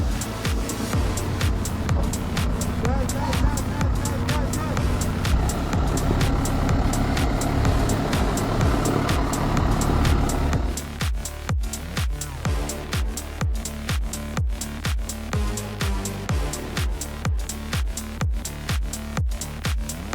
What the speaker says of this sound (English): The engine roars loudly, more than 500 horsepower spurting from the heavy iron block.